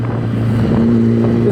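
A Yamaha R1 motorcycle engine runs close and loud, holding a steady drone that climbs slightly in pitch as it revs. Some wind buffeting is mixed in, and no one speaks.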